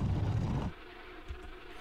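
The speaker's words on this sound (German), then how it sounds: "weil ich höre diese komischen Bienen summen" Buzzing bees in Tomb Raider 3, a dense droning hum that is loud at first, then drops away to a fainter, thinner buzz.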